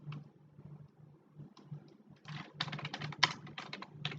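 Someone typing code on a computer keyboard, with sparse scattered keystrokes at first, then a denser run of close clicking, over a low steady hum.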